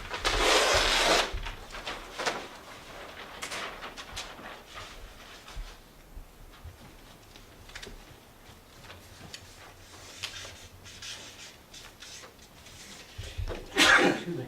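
A single sharp sneeze bursts out at the start, followed by quiet room noise with faint shuffling and a brief burst near the end.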